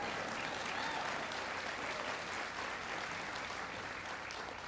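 A large audience applauds steadily at a presidential speech on infrastructure, a dense, even wash of clapping that stays loud and continuous throughout.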